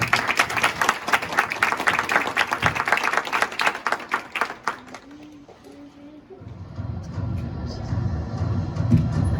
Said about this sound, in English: So Sierra, congratulations to you. Okay, let's give her a round of applause